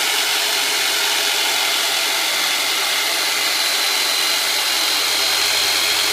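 Black & Decker based chiropractic adjusting instrument running, a loud continuous motorised whine and hiss with steady level, close up and alone, with a slight drop in the low hum near the end.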